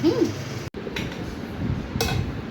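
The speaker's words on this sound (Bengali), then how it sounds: "মনা ভাত বাড়ছি" Dishes clink lightly as rice is served at a home meal, with a few faint, sparse knocks and taps and a voice murmuring nearby.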